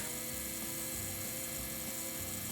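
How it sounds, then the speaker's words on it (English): A drill bores through a workpiece at a marked divot, a steady high whine with a low grinding rumble beneath, continuous and even, with no talk. "drop the drill right through that spot"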